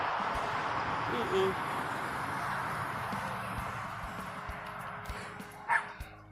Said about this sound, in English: This dog is chasing after this man, and his owner,